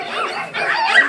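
A pack of village dogs barking and yipping in a short, excited burst, the calls close and overlapping with no pause between them.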